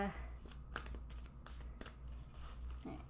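Tarot cards being shuffled and drawn by hand, a series of quick papery riffles and flicks in irregular bursts, close and fairly quiet, with a voice talking in the background.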